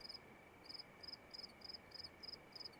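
Crickets chirp at night in Russia in short, evenly spaced high pulses, a steady repeating rhythm over faint background hiss, with no talk.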